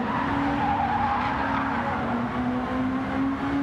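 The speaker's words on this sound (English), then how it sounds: "You could hear the tyre screeching, trying to find grip through that sweeping right-hander." Race car tyres screech in a sustained, loud squeal over the engine's roar as the car slides through a long corner, no voices.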